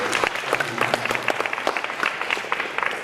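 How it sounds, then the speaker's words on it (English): Applause from a symposium audience: a dense, fairly loud patter of many hands clapping, with sharp individual claps standing out. It continues steadily for about three seconds and no voice is heard. "Give Charles another round of applause for that."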